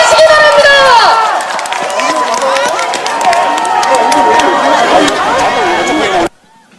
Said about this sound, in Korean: 여러분 힘찬 박수로 환영해 주시기 바랍니다.